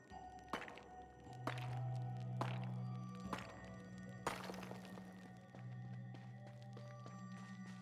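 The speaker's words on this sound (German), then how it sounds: "Alte Kiste zertrümmern." Several sharp wooden thunks and cracks as an old crate is smashed in the video game Luma Island, four distinct hits spread over a few seconds above a steady low game hum.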